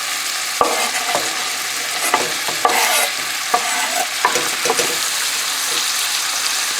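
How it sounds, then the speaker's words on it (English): Octopus and vegetables sauté gently in a pan, a steady close sizzle broken by occasional scraping knocks from stirring, with no talking over it. "While this is sauteing gently"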